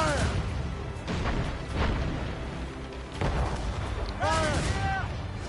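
Ship cannons boom in a naval battle in Assassin's Creed Rogue, a string of heavy blasts rolling one after another, with shouted voices over the barrage.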